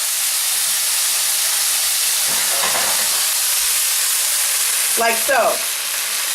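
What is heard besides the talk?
vegetables sizzling in a pan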